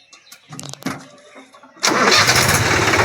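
A tractor engine cranks with a few sputtering turns, then catches and roars into a loud, steady running rumble that holds to the end.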